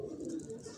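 A pigeon from a fancier's flock coos once, a soft low throaty call lasting under a second, close and quiet with no talk over it.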